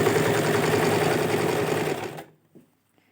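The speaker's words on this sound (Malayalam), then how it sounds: "ഒന്ന് വലിച്ച് പിടിച്ചതിന് ശേഷം നമുക്ക് ഇനി സ്റ്റിച്ച് ചെയ്തെടുക്കാം" Near and steady, a sewing machine runs for about two seconds, stitching stretched elastic onto fabric for a dress, then stops, followed by a brief soft handling sound.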